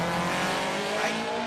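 A drag racing car launches hard off the line at a road trip drag challenge, a loud, steady engine roar filling the clip close by, with a hint of tire squeal partway through.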